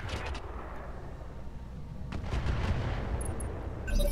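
Incendiary MRM missiles firing from a mech in the Roguetech BattleTech video game, a continuous low rumbling barrage of launches and blasts that swells louder partway through and holds steady to the end.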